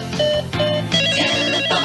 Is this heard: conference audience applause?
no